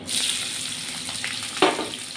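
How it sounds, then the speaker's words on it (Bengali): Onions and slit green chillies frying in the oil left from frying prawns, a close, continuous sizzle with a brief louder burst of spitting partway through. "এই তেলেতে পেঁয়াজ কাঁচা লঙ্কা চেরাগুলো দিয়ে দেবো,"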